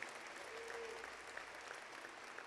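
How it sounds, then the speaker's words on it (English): Steady audience applause fills a ribbon-cutting ceremony for the Harlem Hospital patient pavilion, a dense continuous wash of many hands clapping at moderate distance, with a brief faint tone passing under it. "yes, they deserve a round of applause."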